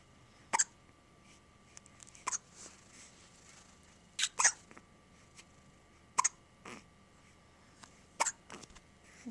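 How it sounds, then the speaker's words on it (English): A person hiccups repeatedly, six or seven sharp, short bursts spaced about two seconds apart, close and fairly loud against a quiet background with no talking. "You have a lot of hiccups."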